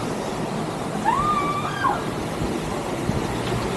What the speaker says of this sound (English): there is the beautiful Copper Creek Falls